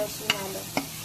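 A ground paste of coconut, onion, garlic and ginger fries in a pan, a soft sizzle broken by two sharp scraping stirs of a spoon.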